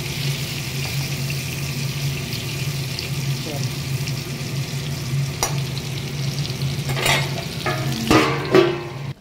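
Pointed gourd fries over low heat in a pan, giving a steady loud sizzle with occasional scraping and clatter from stirring near the end.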